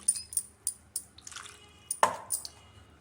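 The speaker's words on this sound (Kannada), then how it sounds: "ಇದಕ್ಕೆ ಸ್ವಲ್ಪ ನೀರು ಹಾಕ್ತೀನಿ." Water is poured and splashed into a gojju made with brinjal, tomato and onion: a series of close, separate drips and splashes, one louder liquid splash partway through, with no one talking.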